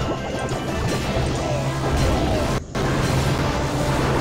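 A lightning zap spell crashes down in the Clash of Clans video game, a harsh, noisy electric blast amid loud, continuous battle sounds, with one brief dropout partway through.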